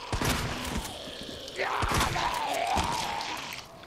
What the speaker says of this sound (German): okay, das waren jetzt zwei Schuss.